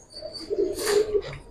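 A Giribaz pigeon in its cage gives a single short, soft coo, heard close up and alone.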